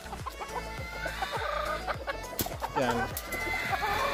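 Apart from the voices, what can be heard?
Gilmore hen clucking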